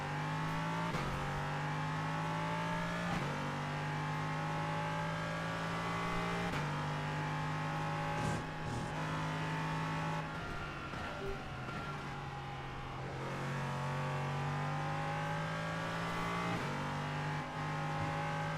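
LMP3 and GT4 race cars lapping Donington in a racing video game, a continuous engine drone with rising revs and repeated gear-change drops, steady and moderately loud with no talk over it.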